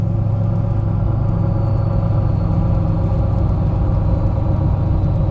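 A 6.7 Powerstroke diesel pickup on 37-inch mud tires, with a transmission that has had harsh shifts, drives at moderate speed. The engine drones steadily and loud from inside the cab, and the gear change blends smoothly into the rumble.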